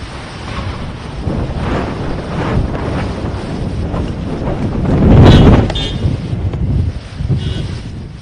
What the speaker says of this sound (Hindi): तेज हवाएं चल रही हैं।